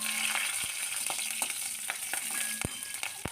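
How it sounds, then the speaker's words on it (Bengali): A bay leaf, whole cumin seeds and slit green chillies sputter in hot oil, a bright continuous sizzle broken by sharp crackles and pops, close up with no voices. "এই তেলের মধ্যে দিয়ে দিচ্ছি একটা তেজপাতা আর দিচ্ছি সামান্য একটু গোটা জিরে ফোড়ন আর দিয়ে দিচ্ছি কয়েকটা চেরা কাঁচা লঙ্কা"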